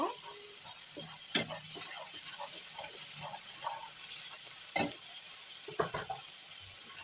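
Onion, garlic and cumin paste stirred in a hot frying pan for a village-style fish curry: a steady sizzling hiss with soft scraping strokes and a few sharper clacks of the spoon against the pan.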